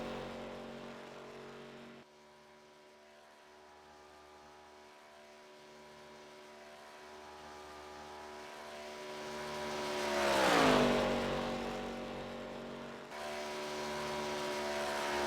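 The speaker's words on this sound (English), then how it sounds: "looks like Keith on his heat lap right here" ARCA race car on a heat lap at Daytona, a steady engine drone that swells into a loud close pass around the middle and then fades back, no voices.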